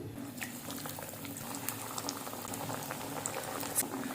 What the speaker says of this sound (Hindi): अब ऑयल गर्म हो चुका है, कबाब ऐड करेंगे फ्राई करने के लिए